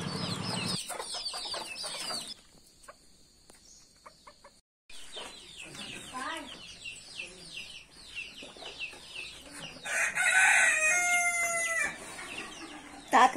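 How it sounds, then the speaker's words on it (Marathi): Hens cluck in bursts and a rooster crows loudly near the end, kept at a rural home in Ratnagiri district near a bullock cart race, with other bird calls and faint background noise between the calls. "यांच्याकडे ना बरीच कोंबडी पण पाळलेली दिसली मला"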